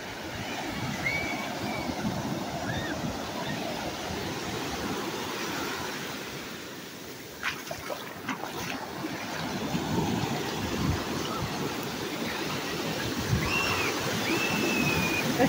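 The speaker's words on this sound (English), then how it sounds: "I could literally just sit and listen to the waves all day long." Ocean waves breaking on the beach at Ocean City, New Jersey, a continuous broad wash of surf at close range, with faint distant voices and bird calls now and then.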